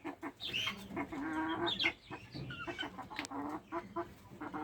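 Native desi chickens on a poultry farm cluck and cackle close by in quick, overlapping bursts, with a few sharper squawks among the chatter.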